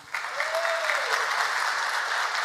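Warm audience applause in a hall welcoming a state vice-governor to the stage, steady continuous clapping from a crowd throughout with a faint tone briefly audible underneath.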